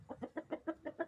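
A rooster gives seven rhythmic, evenly spaced clucks in quick succession, close and moderately loud, with no other sound around them.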